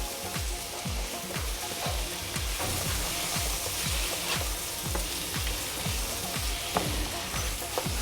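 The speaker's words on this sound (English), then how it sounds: "And then we're going to stir the mixture." A mixture frying in a pan sizzles steadily while a spoon stirs it in quick repeated scrapes and knocks, close and fairly loud, with no talking.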